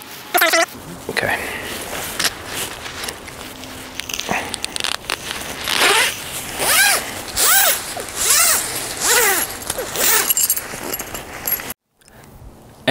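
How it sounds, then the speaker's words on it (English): The double zipper on a DD Hammocks Superlight Jungle Hammock being drawn back and forth, a series of rasping zip strokes in a steady rhythm, close and loud, ending with a short pause. "And it is a double zipper, which allows you to work it anywhere you need to along the hammock"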